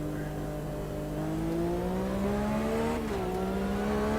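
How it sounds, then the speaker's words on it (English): A GT race car in Automobilista 2 holds a loud, steady engine drone with a whining transmission. The pitch climbs smoothly, dips briefly near the end, then rises again as the car accelerates. "Transmission noise is pretty nice."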